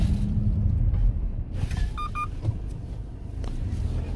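A car is driven aggressively with the accelerator pressed all the way to the floor, giving a low engine rumble throughout with a few short tonal chimes partway through. No speech.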